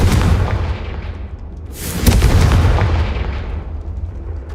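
Fire-spell explosion in Hogwarts Legacy, a loud booming blast with a rumbling tail, then a second sharp burst mid-way that rolls off into a fading roar.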